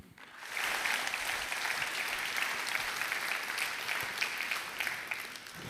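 Hall audience applause at a university electrical engineering event, rising quickly after a brief quiet moment into sustained, even clapping from a large crowd that holds steady for several seconds.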